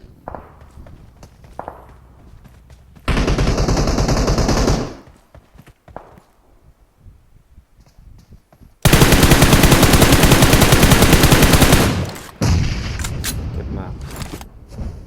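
Automatic gunfire in the mobile battle-royale game PUBG Mobile comes in two long, loud sustained bursts of rapid fire, with footsteps and quieter game sounds between them.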